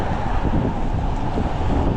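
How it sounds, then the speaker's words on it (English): Wind roars against the microphone during a cold winter e-bike ride through Hawthorne, New Jersey, a loud, constant, broadband buffeting rumble with no break and no speech. "I know you guys can hear the wind."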